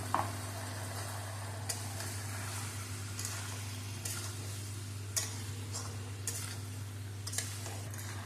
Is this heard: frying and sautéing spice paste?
yes